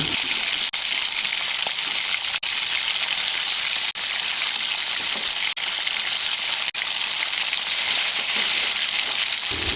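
Chicken sizzles and fries steadily in a hot pan, a dense, even crackle throughout with a few brief dips, close and loud, with no talking.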